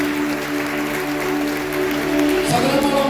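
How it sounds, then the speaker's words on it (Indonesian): A congregation breaks into steady, rustling applause during a church anniversary service, the clapping filling the room over faint sustained music and growing slightly fuller near the end. "Boleh kita berikan tepuk tangan bagi Yesus yang luar biasa."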